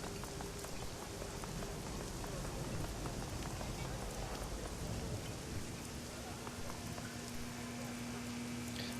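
Steady rain falling in the Shadowrun Hong Kong video game, a dense continuous hiss of drops on surfaces that stays even and close throughout, with a low rumble beneath.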